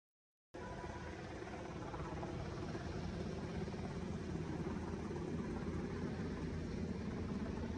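A helicopter hovers close by, blasting rotor wash in a loud, continuous roar that starts abruptly after a brief silence and holds steady throughout.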